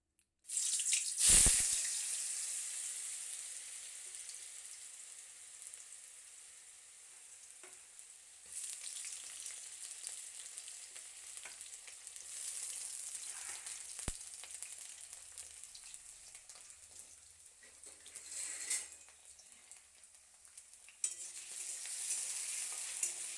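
Potatoes go into a hot kadai while making kachki fish pathuri, with a sharp clatter at the start followed by a long, steady sizzle and spitting oil that swells and eases in waves.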